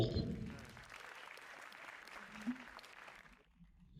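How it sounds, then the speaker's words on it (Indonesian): An audience at a KMKM anniversary ceremony claps steadily for about three seconds, fairly faint and roomy, before the applause fades out. "Tepuk tangannya dulu semuanya"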